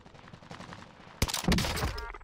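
Gunfire in the Warzone video game, with faint distant shots early on, then a loud burst of rapid close shots about halfway through that runs on to the end.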